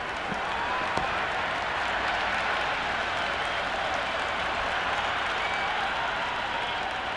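Cricket crowd applauding in the video game Cricket 26 during an Ashes Test match, a steady dense wash of clapping and crowd noise that holds evenly throughout.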